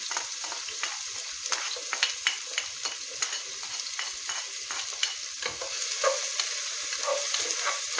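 Onions sizzle steadily in hot oil in a pan, with a bright crackling hiss and occasional scraping stirs, close up and without any talking.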